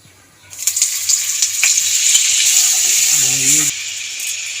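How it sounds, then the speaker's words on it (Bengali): Butter sizzling in hot vegetable oil, a sharp hiss that flares up loudly after a quiet start, holds steady, then drops back; a voice speaks briefly over it. "তেল দিয়ে দিলাম, সাদা তেল দিয়ে দিয়েছি। তার মধ্যে দিয়ে দেবো বাটার"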